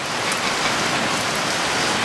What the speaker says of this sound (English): It hasn't stopped raining